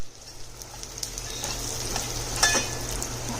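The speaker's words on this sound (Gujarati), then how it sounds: "હવે જે આપણે બધા ડ્રાય મસાલા લીધા એને એડ કરી દઈશું। એકદમ સરસ સ્મેલ આવે ત્યાં સુધી એને શેકી લેશું।" Dry spices roasting in a pan for Maliya-style sambhar vadi give off a steady, soft sizzle with light stirring scrapes, close and even, with one brief louder scrape near the end.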